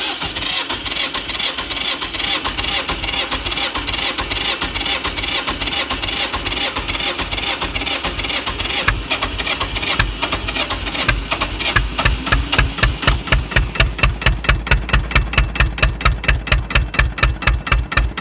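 An engine on a farm cranks over on a cold morning, a long loud churning that turns into rapid rhythmic firing pulses toward the end.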